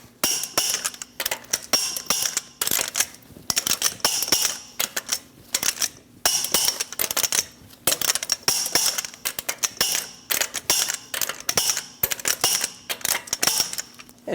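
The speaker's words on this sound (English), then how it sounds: "Torque the lug nuts to 130 foot-pounds in a star pattern." Rapid mechanical clicking and ratcheting of a tool tightening lug nuts on a 2011-or-later Dodge Durango front wheel, repeated bursts separated by short pauses, close and alone without talk.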